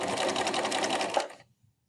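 A sewing machine stitches fabric for a face mask in a steady, fast, close whir for over a second, then stops abruptly into near silence.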